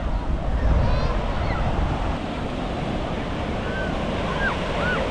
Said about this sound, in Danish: Vi er i Da Nang Beach lige nu.